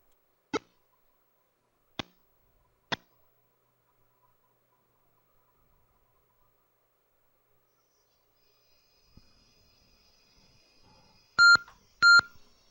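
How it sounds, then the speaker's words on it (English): Three short electronic blips spaced a second or so apart, quiet stretch, then two louder buzzy beeps near the end from the TI-99/4A sound chip playing Championship Baseball. "these game sounds you're hearing are coming from the TI-99's PSG rather than from the MBX itself"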